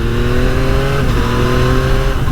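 A Yamaha MT-09 three-cylinder motorcycle accelerates out of a curve, a loud, close engine roar with rising harmonic tones held steady for a couple of seconds.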